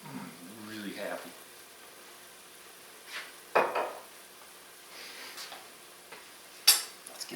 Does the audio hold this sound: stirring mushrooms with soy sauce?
yes